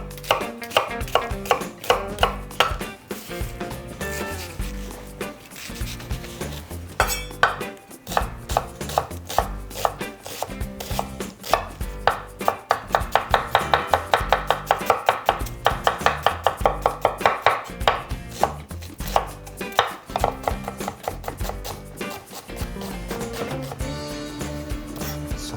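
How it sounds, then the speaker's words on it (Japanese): Half an onion is minced with a knife on a cutting board for a Japanese-style hamburger steak. The blade taps close and sharp in fast, steady runs with brief pauses between bursts. No one speaks. "2分の1個をみじん切りにこのように刻んでいきます。"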